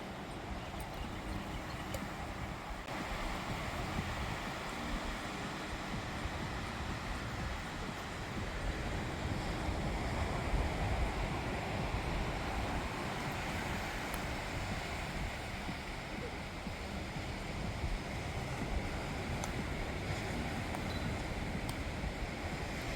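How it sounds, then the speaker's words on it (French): Beach at Étang-Salé on Réunion, with a steady broadband roar of surf and gusting wind buffeting the microphone, continuous and fairly loud, no talk. "Là, nous sommes à la plage de l'étang salé."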